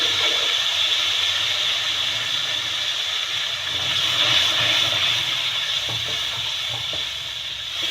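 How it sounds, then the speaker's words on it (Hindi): Water is poured into a pan of spiced potato and fenugreek curry with onion, turmeric, chili and salt, giving a loud, steady sizzling hiss that fades slightly toward the end. "और इसमें हम थोड़ा सा पानी ऐड करेंगे।"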